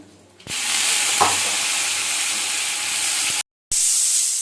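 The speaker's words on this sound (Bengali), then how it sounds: "মাংসের আলুগুলো ভেজে নিই মাংসের আলুগুলো লাল লাল করে ভেজে নেবো" Potatoes for a chicken curry fry in oil with turmeric, giving a steady, fairly loud sizzle that starts abruptly, with a brief stir scrape and a short dropout near the end; no talking.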